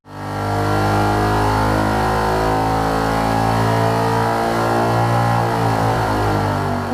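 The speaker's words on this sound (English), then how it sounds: "GM Performance has just the thing, a new and improved LS crate motor" A GM Performance LS 427 570 crate V8 engine runs loud and close, holding a deep steady rumble with strong pulsing low tones and slight pitch wavering as it revs, no voices.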